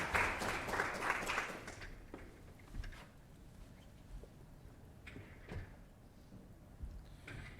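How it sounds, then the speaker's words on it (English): A short burst of clapping at a city council meeting that dies away after about two seconds, followed by scattered knocks and faint shuffling in a quiet room. "give them a big round of applause"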